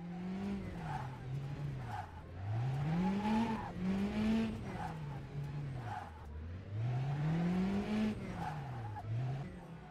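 A car in a racing sim game, driven with Fanatec CSL pedals, brakes into tyre lock-up and skids. Its engine note sweeps up and down in repeated cycles alongside squealing tyres, all at fairly low volume.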